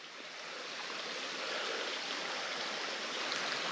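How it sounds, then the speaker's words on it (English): A stream running near a shady campsite, a steady broad rushing of water that swells slightly and holds constant, close and fairly soft, with no talk over it. "I hear water running."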